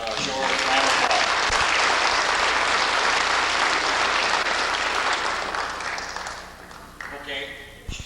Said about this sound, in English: We show her a round of applause.